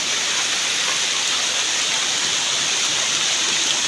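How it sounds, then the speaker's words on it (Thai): Steady, dense rain pouring down, a continuous loud hiss of drops on surfaces with no pauses and no voices. "ฝนก็ลงมา"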